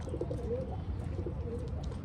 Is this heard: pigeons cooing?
yes